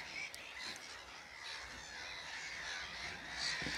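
Black-headed gulls squabble over a raft, harsh squawking calls overlapping continuously at moderate distance against a steady outdoor wash.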